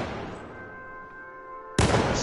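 A sniper rifle shot in a PS4 shooter video game: one loud, sudden blast near the end that cuts through a quiet, humming background.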